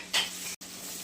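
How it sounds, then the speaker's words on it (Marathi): Rice flour chakli frying in hot oil gives a brief close sizzle and hiss, loudest near the start, then steady crackling with a short gap of silence. "थोडं नुसतं तळून घेऊयात आता आपण."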